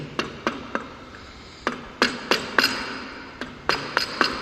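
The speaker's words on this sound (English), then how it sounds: "He places sharp corners with the plain edge chisel also." A plain edge chisel cuts the corners of a wooden dovetail joint, producing a dozen or so sharp, close knocks at an irregular pace, some in quick pairs, with no voices.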